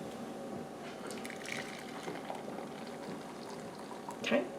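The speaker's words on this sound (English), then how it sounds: "I'm going to measure out a cup of the starter" Thick sourdough starter is poured into a measuring cup, making a soft, close, wet glugging and slopping sound that is fairly faint throughout, with a louder splash near the end.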